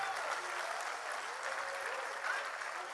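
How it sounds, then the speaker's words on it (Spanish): Steady, dense clapping from a church congregation during a service, a continuous wash of many hands at moderate distance with no pauses. "Un aplauso al Señor."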